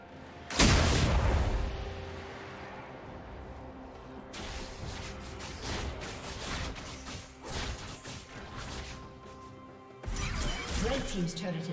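A turret collapses in League of Legends during an Urgot versus Tristana top-lane match, with a loud crashing boom followed by layered impacts and explosive game effects. Further crashes and clatter continue under busy game sound.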